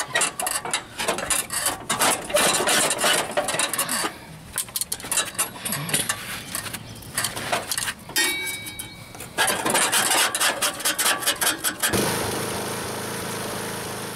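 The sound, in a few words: putty knife scraping grass off lawn mower deck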